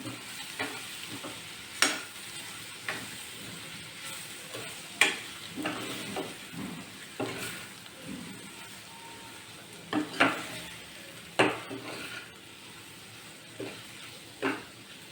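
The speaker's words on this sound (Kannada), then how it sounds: "ಈಗ ಸ್ವಲ್ಪ ಫ್ರೈ ಮಾಡಿ ಸಣ್ಣ ಸಿಮ್ಮಲ್ಲಿ ಇಟ್ಕೊಂಡ್ಬಿಟ್ಟು ಫ್ರೈ ಮಾಡ್ಕೊಳ್ಳಿ" Mushrooms fry in butter and garlic over a low flame, a soft continuous sizzle punctuated by repeated spatula scrapes and stirs at irregular intervals, no speech.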